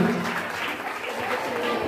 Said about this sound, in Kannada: ಅವರಿಗೆ ಮತ್ತೊಮ್ಮೆ ಜೋರಾದ ಚಪ್ಪಾಳೆಯನ್ನ